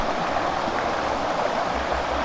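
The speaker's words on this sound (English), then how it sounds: "with the river just cascading from here, and it's going along" A river cascading over rocks under sunny trees in the Canary Islands, a steady, full rushing of water close by, continuous and unbroken with no voices.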